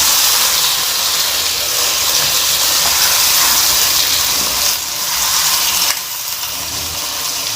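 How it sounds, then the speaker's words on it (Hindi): Ginger-garlic paste fries loudly in a pan with chicken for a white korma, giving a constant close hiss that dips briefly near the end. "यहाँ पे हमने लहसुन और अदरक का पेस्ट डाल दिया इसको अच्छे तरीके से हम भूनेंगे।"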